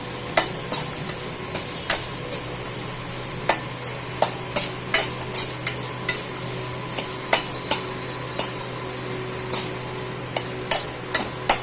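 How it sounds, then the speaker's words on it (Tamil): Buttermilk chillies (mor vathal) fry in a pan over a faint steady hiss, punctuated by regular sharp clicks and taps of a spoon against the metal. "நல்லா வறுத்துக்கோங்க."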